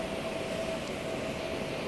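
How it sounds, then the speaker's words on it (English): Steady rumbling roar inside a moving London train, a continuous even wash of rail noise with a faint whine, close and unbroken, no talk. "So I missed my first train and I'm now on the next one."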